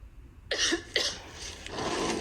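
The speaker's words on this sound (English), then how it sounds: "that cough looks pretty bad" A few raspy coughs, two sharp bursts followed by a softer rough exhale, close and fairly quiet.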